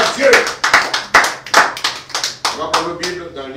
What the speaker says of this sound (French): Est-ce qu'on peut donner des acclamations à notre Dieu ce matin?